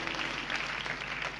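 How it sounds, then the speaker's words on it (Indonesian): A church congregation applauds in praise during a worship service, a dense, steady wash of many hands clapping at moderate volume throughout, with no voices standing out. "Berikan tepuk tangan bagi Tuhan Yesus."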